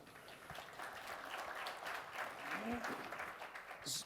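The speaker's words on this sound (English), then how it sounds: "Will you please give them a round of applause?" A conference audience at an investment panel applauds, a steady wash of many hands clapping at moderate distance that continues for several seconds, with some voices mixed in.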